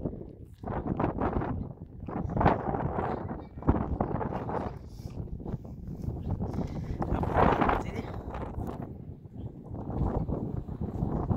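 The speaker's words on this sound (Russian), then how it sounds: "Но не сильно такой ветер, но присутствует." Wind blowing at the foot of Toratau mountain, a steady low rushing buffet across the microphone that swells and eases throughout, with rustling and some movement noise close by.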